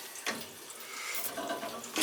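Water dripping and trickling from a leaking valve on a baseboard heating riser fed by a gas boiler, with a few distinct drip strikes over a faint continuous trickle, close by.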